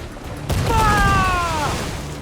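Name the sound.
ship cannons firing in a volley, video game Assassin's Creed IV: Black Flag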